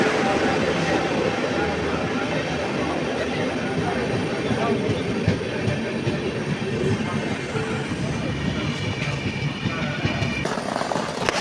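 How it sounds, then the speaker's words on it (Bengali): A passenger train arrives at a station in Kerala, its loud, continuous rumble and rolling wheel noise filling the whole stretch up close, with faint rattling clatter throughout. "ট্রেন আয়া পড়ছে বর্তমান তো এটাতে যাওয়া লাগবো"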